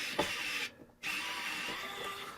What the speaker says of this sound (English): There are a couple screws here on the back, so we'll start with getting these off